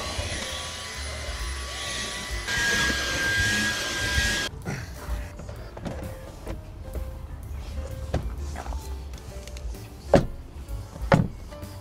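Car interior being cleaned before a trip: a droning vacuum runs in the first seconds, then stops, followed by quieter rustling, bumps and a couple of sharp knocks as items are shaken out.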